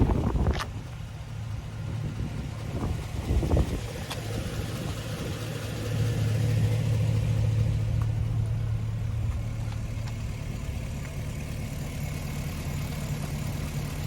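A Hummer H3T pickup with 141,000 miles idles quietly and steadily, a low, even engine hum holding throughout with a slight swell in the middle and a couple of faint knocks near the start.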